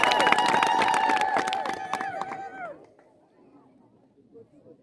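A crowd ululates at a church foundation stone ceremony for the Abune Tekle Haymanot church in Wusamo, with shrill, wavering trills rising together loudly for nearly three seconds before cutting off into quiet background murmur.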